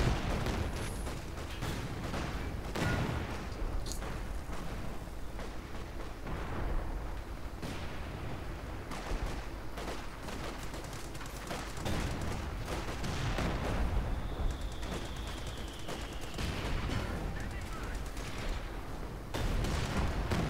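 Repeated mortar and artillery blasts rumble through a Company of Heroes 2 4v4 battle with British forces, with dense overlapping thuds and booms rolling on without a break and no voices over them.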